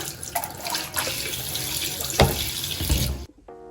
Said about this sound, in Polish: A następnie podlewam.